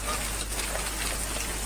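Unseasonal rain with hail falls on a village in Gujarat as a dense, steady patter of drops that stays even and fairly loud throughout.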